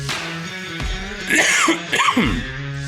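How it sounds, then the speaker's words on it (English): A person clears their throat and coughs several times in short, rough bursts, close and fairly loud, with brief gaps between. "I'm about to have a coughing fit."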